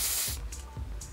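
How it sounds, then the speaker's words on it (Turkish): Hair spray hisses from an aerosol can in a short burst, followed by two fainter quick puffs, close and clear with no talk. "saç spreyi."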